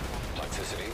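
Rapid video game gunfire crackles under a layer of talking, a short dense burst of shots mixed with voices and game noise.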